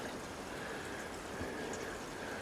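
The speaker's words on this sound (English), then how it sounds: "water is going through that grate I can hear" Water flowing through a grate in a gorge on a hike near Okutama, Tokyo, a steady soft rushing and trickling wash heard alone at moderate distance throughout.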